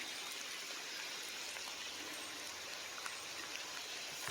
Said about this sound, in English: Thought I could beat the rain.